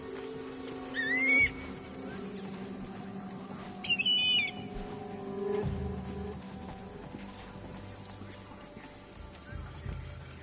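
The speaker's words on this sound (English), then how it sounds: "Somebody help me with this bird!" A bird shrieks in a fight in Assassin's Creed Odyssey, with two high screeching calls over a dense game mix of hooves, low rumble and background voices.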